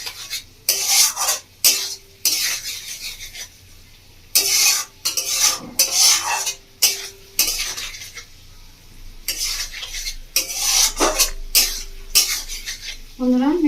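A fish roe mixture is stirred in a pan, with repeated scraping and clinking of utensil against metal in uneven bursts and a low sizzle underneath.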